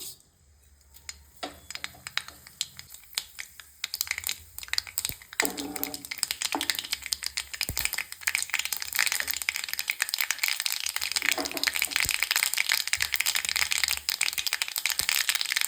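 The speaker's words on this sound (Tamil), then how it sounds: "இப்போ அதே எண்ணெயில் கடுகு போட்டுக்கலாம்" Mustard seeds dropped into hot oil, reused from earlier frying, for a South Indian tomato rice, build into a dense, continuous crackling splutter, close and loud.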